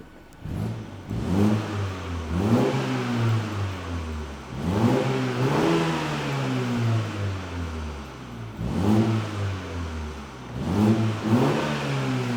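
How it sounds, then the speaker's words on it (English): A 2021 F56 Mini Cooper S engine with stock exhaust revs repeatedly in loud bursts, rising and falling in pitch about every two seconds, with a smooth, fairly mild exhaust note. "This is stock exhaust as far as I'm aware."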